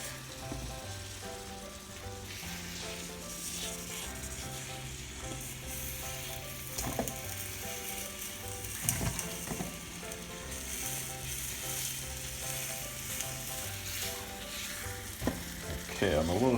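Butter and sugar caramelizing in a hot skillet for tarte tatin, with a steady soft sizzle and bubbling, occasional stirring clicks and background tonal hum, fairly quiet and without speech.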